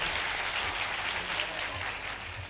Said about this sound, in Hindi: लोग तालियां बजा के मेरे बच्चे का स्वागत